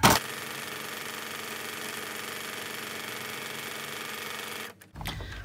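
A domestic sewing machine stitching fabric for a project bag, running in a steady continuous whir for about five seconds before stopping abruptly, followed by faint handling sounds.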